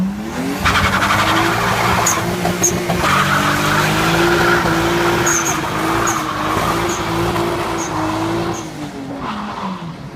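A Nissan Skyline R32 GTS-T driven hard, its engine howling loud and close while tires squeal and skid across several seconds, with sharp chirps punctuating the sustained drone.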